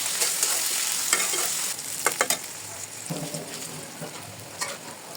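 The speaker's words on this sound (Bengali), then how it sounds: "পেঁয়াজগুলো ভালো করে ভেজে নিতে হবে, একদম লালচে হওয়া পর্যন্ত ভাজতে হবে" Chopped onions fry in a pan with a steady hiss, interrupted by a few scraping stirs, moderately close with no talking.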